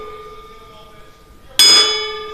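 A single bell or offering bowl struck for a ritual rings out with a bright, sudden clang that sustains and slowly decays, following a quieter steady tone beforehand.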